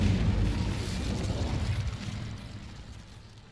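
Incendio fire spell cast in Hogwarts Legacy bursts with a deep, rumbling whoosh that starts strong and fades away over a few seconds, heard alone.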